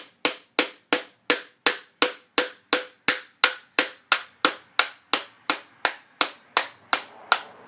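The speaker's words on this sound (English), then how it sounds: "then I use a standard hammer and just begin to tap it in" A standard hammer taps a piston into a 2002 Jeep Grand Cherokee 4.7L HO engine block with a wood handle as a bar: about twenty sharp, evenly spaced ringing knocks, close and clear.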